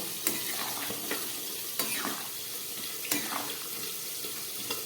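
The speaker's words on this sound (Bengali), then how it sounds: "সবজিটাকে একটু ঢাকা খুলে নেড়ে দেব।" Vegetables for a Bengali fish-head chhyachra are stirred in an uncovered pan, a soft sizzle with a few sharp scraping clinks of the spoon against the metal, close and without talk.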